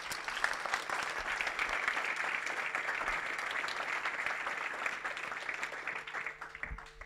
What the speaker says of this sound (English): a round of applause for Code Mode and the Skills Matter team